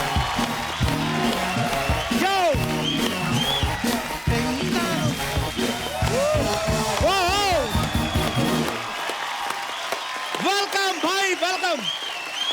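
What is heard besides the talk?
studio audience applauding and cheering guests' entrance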